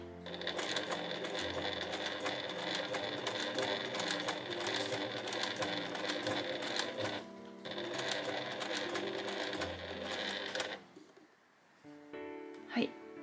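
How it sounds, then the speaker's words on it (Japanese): A sewing machine stitches bias tape onto a vanity pouch, running in a close, rapid mechanical patter in two long bursts with a brief pause, then stopping before a few short clicks. "ミシン目に沿ってこのような感じで縫っています"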